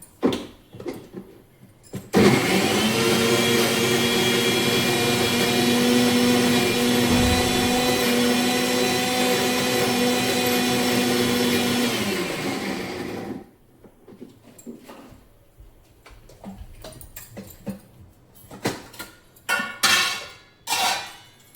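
An electric mixer grinder whirs loudly and continuously for about eleven seconds while grinding onion and garlic, then stops, followed by scattered clinks and handling noises of the jar.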